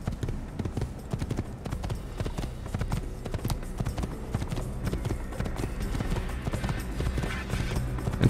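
A horse's hooves clip-clop in a quick, steady rhythm while riding in the video game Assassin's Creed, with a continuous close trotting patter and no voices.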